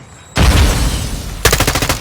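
Loud, close automatic gunfire in Call of Duty: Modern Warfare II, a sustained burst followed by a rapid run of distinct sharp shots, with no talking.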